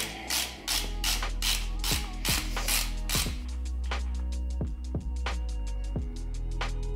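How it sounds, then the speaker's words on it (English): A 1/2-inch ratchet working a transmission plug loose on a Civic GSR gearbox gives a long run of quick, loud, close ratchet-pawl clicks, with a few sharp metallic creaks as the plug breaks free. "take your 1/2-inch ratchet, stick it in the square there, get it good and deep, and then just kind of break it free"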